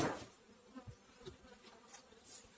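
Honey bees buzzing on a hive frame during preparation for winter, a soft, steady insect hum with faint rises and falls, fairly quiet and close, with no talking.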